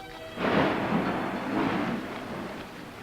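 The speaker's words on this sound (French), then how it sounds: "L'orage se rapproche." An approaching thunderstorm: a deep, rolling rumble of thunder swells in, holds for a couple of seconds and slowly fades, with a steady hiss of rain-like noise beneath.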